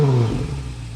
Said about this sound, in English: so you can hear that exhaust note.